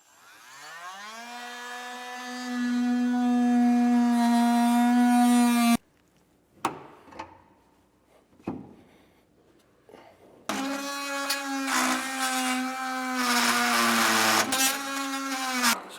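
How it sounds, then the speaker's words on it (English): An oscillating multi-tool cuts through a rubber jounce bumper and bolt while Air Lift LoadLifter 5000 Ultimate helper springs go onto a 2020 GMC, giving a loud, steady high-pitched whine, then a pause with scattered clunks before the cutting resumes. "we're going to take a multi-tool and we're going to cut this jounce bumper off and then shave that bolt off"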